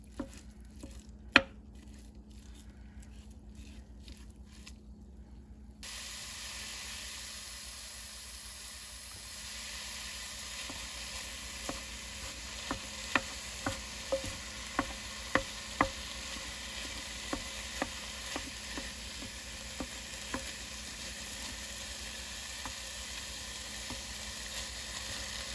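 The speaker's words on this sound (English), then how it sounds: "just brown the meat in a pan" Ground turkey browns in a pan for chili, a steady low sizzle with scattered sharp taps and clicks of a utensil stirring, fairly quiet and with no voices.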